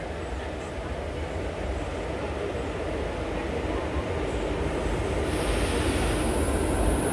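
The Rocket Express rolls along the rails near Madgaon, heard from on board as a loud, unbroken roar of rumble and rattle that keeps up its intensity from start to finish.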